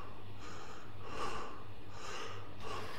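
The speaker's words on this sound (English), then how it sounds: "Stop breathing so goddamn loudly" Heavy, rasping breaths fill a horror video game featuring hostile penguins, three or four long, close, loud inhale-exhale cycles over a steady low drone.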